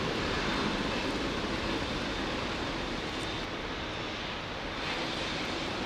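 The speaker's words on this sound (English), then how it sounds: "a BA 380 coming out." A British Airways Airbus A380 at Heathrow gives off a loud, steady, broadband engine roar that holds nearly constant from start to finish, with no voices on top.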